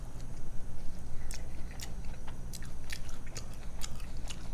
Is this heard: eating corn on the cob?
yes